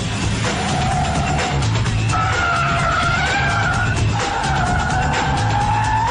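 Tires screech in long, wavering squeals over a constant engine roar from the Warthog vehicle in the Halo video game, the skids repeating several times, loud and close, with nobody talking.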